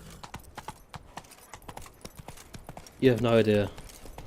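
Horse hooves in The Witcher 3: Wild Hunt – Blood and Wine, a steady, close, rhythmic clip-clop throughout, with a voice speaking briefly near the end.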